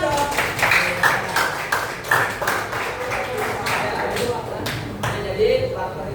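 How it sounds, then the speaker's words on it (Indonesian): Students in a class clap their hands together in a brief, fairly close burst of applause, mixed with scattered taps, thuds and classroom chatter. "Iya betul, tepuk tangan dong."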